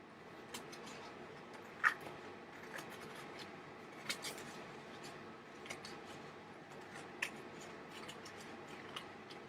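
Scissors snip through material while snake marionettes are being crafted, giving faint, sparse clicks and cuts at irregular intervals against a quiet room background.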